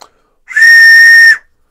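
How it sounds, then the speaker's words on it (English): A tin whistle blown hard produces one steady, loud, piercing tone that holds for about a second, with a short breathy onset. "you need to blow a little bit harder"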